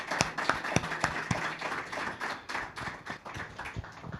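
Audience at a formal meeting clapping to thank a doctor for his presentation, a modest scattering of distinct handclaps with uneven rhythm, fairly close and moderate in volume, thinning toward the end.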